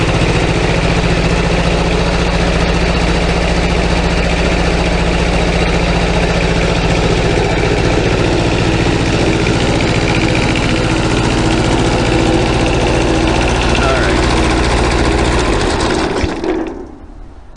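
A small engine idles steadily at close range, loud with a constant low rumble, then shuts down abruptly near the end and falls quiet.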